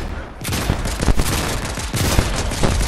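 Fortnite gunfire: loud, dense bursts of rapid automatic shots and overlapping blasts in continuous fusillade, close and dominant throughout with little pause.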